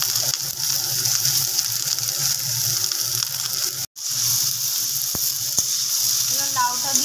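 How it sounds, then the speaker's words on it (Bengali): Grated coconut frying in a pan for a bottle gourd dish, giving a steady broadband sizzle that runs throughout, broken by a brief dropout near the middle, with a few faint clicks and stirring sounds toward the end. "নারকেলটাকে ভেজে নেওয়া হচ্ছে।"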